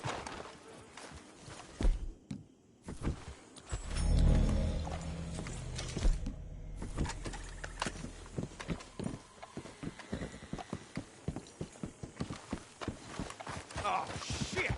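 Horses walk along with irregular hooves clip-clopping close by, mixed with scattered knocks and shuffling and a brief rumbling swell.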